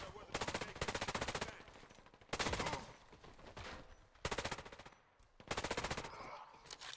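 STK CMCR gun in the video game Warface firing in four rapid full-auto bursts separated by short pauses, loud and sharp.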